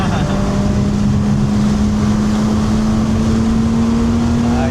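An old front-wheel-drive Honda car's engine runs at a steady, smooth hum with a constant low tone, heard from inside the car alongside road and wind noise.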